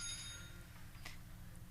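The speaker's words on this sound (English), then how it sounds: "That bell means that's 3 minutes." A timer bell at a school district board meeting rings once at the start, its bright metallic tone fading quickly over a steady low room hum, with no talking.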